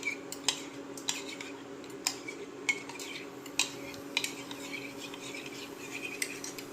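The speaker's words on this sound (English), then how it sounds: "Mix it with a spoon until all the cornstarch dissolves." Spoon clinking and scraping against a bowl as cornstarch is stirred into cold water for sweet and sour sauce, soft repeated light taps over a steady low background hum, no talking.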